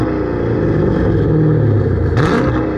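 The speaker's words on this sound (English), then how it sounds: "you heard how the rev sound on this car" Dodge Charger with a mid muffler delete exhaust, engine hot and warmed up, holding a loud, steady rumbling rev close by with a brief rise in pitch near the end.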